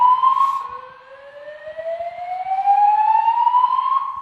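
A hotel early alert system alarm gives out a loud electronic siren tone that sweeps slowly upward in pitch and holds steady, alone and up close.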